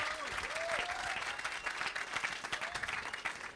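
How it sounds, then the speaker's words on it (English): Steady applause from an audience at a public talk, dense clapping that fills the whole stretch with a few whoops or tonal calls drifting over it. "let's have a big round of applause."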